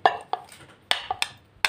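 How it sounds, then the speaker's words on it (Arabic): Chopped tomatoes are pounded in a mortar, making a handful of sharp, close knocks spaced irregularly, each a short hard clack that fades quickly, with no speech. "وبعدين هضيف الطماطم اللي انا مقطعاها، هدقها برضو في الهول"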